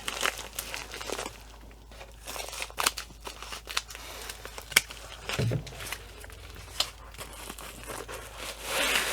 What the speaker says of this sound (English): let me get out my scissors, because now these I don't have cut open